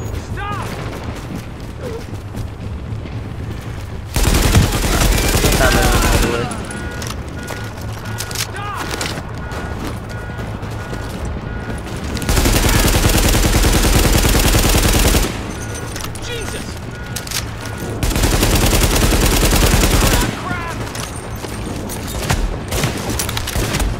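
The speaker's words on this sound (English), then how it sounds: "I hate the recoil on these guns early game." Bursts of automatic gunfire from guns in the video game The Division, heavy and sustained in several long volleys with quieter stretches between them, while a voice talks over the action.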